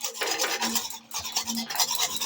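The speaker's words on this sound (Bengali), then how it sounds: "ভালো করে মিশিয়ে নেব।" Spoon stirring a milk mixture with sugar, cardamom powder and milk powder in a pot, a close, quiet scraping and swishing that runs continuously with small rhythmic strokes.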